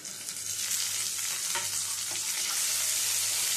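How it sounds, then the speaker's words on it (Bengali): Chopped onion and tomato fry in a pan for a fish curry with poppy seed, giving a loud, steady sizzle throughout with a few faint clinks of stirring. "টমেটোটা একটু হালকা ভেজে নেব, টমেটোর কাঁচা গন্ধটা চলে যাওয়া পর্যন্ত।"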